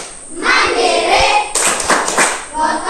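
A class of Indonesian pupils shouts the tepuk PPK chant while clapping in a fast, patterned rhythm, dense group voices and crisp claps heard nearby.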